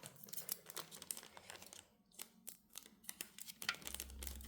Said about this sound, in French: en fait c'est dangereux hein, les ciseaux